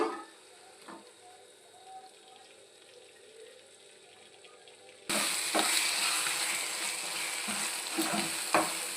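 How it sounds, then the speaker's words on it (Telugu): Eggs for egg bhurji cook in a pan, with a faint low sizzle at first, then a much louder frying hiss with scattered stirring knocks for the last few seconds. "గుడ్లు అయితే ఇందులో వేసేస్తున్నాను"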